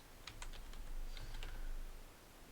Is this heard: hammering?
no